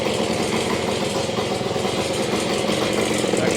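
A 1973 Yamaha ATMX 125 motorcycle engine that still runs poorly holds a steady, loud buzzing drone at about quarter throttle, close up and without voices.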